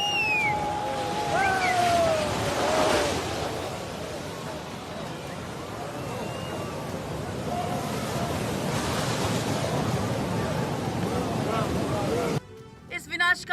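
Surging flood water in Assam roars as a constant broad wash of churning waves, with gusty wind across the microphone and a brief cut near the end.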